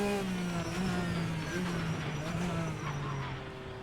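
A GT race car from the RSS GTN pack in the Assetto Corsa racing game revs hard at high rpm, its loud engine note holding steady and sliding slightly in pitch while the car drives on.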